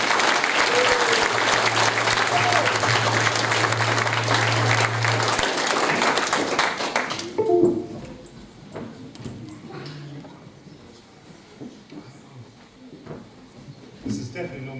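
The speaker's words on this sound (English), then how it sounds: "Round of applause for Aggie." An audience at a Year 6 school graduation applauds for a student, a burst of dense, loud clapping lasting about seven seconds before dying away, followed by quieter room noise and talk.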